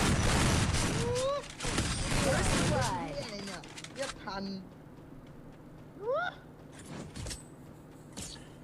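Rapid bursts of video game gunfire crackle loudly and densely through the first few seconds, mixed with excited voices talking over it, before giving way to quieter game sounds and scattered speech.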